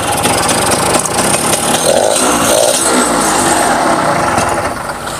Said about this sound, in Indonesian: Mesinnya enak banget. Mesinnya halus banget ya.